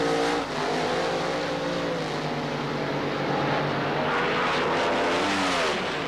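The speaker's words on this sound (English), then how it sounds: "Top Fuel racing at the Gator Nationals" Top Fuel dragsters roaring down the strip in a semifinal at the 1976 NHRA Gatornationals in Gainesville, Florida: a dense, sustained engine roar at high volume, steady throughout with no speech.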